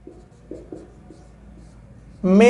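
A pen writing figures for a maths average problem, giving a few soft, close scratching strokes in near silence before a voice starts speaking at the end.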